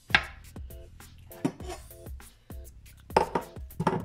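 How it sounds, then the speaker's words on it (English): A knife cuts pineapple into cubes on a board, giving a quick, uneven series of close thuds and scrapes, with no talking. "So just cut it up in"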